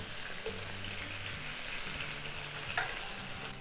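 Mozzarella-stuffed meatballs browning in oil in a pan give off a dense, even sizzle up close, with a couple of faint clicks near the end.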